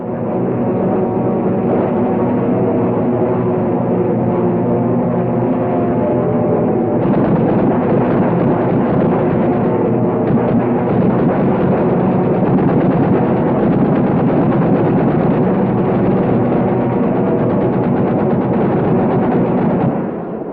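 A 1943 aircraft rear gunner fires a machine gun at a towed target during straight beam air-to-air practice, heard as a continuous loud roar of engine and gunfire that grows denser partway through.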